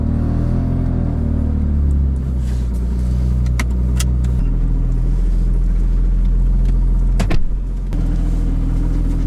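A BMW F80 M3 drift car idling after a gearbox upgrade, a deep steady engine rumble close by with a brief shift in tone midway and a few clunks as gears are selected.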